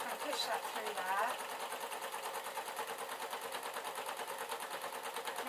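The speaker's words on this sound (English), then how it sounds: "Now I'm just going to sew." A sewing machine runs continuously with a fast, even needle rattle while stitching denim and tartan cloth, a person talking over the mechanical hum throughout.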